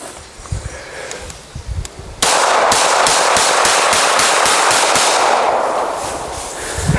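A compact Ruger LCP .380 pistol is test fired rapidly outdoors, a sudden loud blast followed by a fast string of about a dozen close, sharp shots over a roaring wash of noise, after quieter handling thumps.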